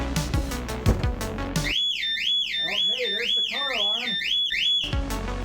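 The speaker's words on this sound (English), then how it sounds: "there's the car alarm" Volvo XC70 car alarm sounds suddenly, a loud warbling siren cycling up and down in steady repeated sweeps, with a voice talking briefly before it starts.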